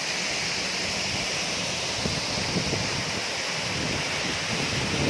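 A small mountain stream full of waterfalls in a rocky gorge at Háng Tề Chơ, Vietnam, roars in a steady, loud, unbroken rush of falling water that fills the whole clip.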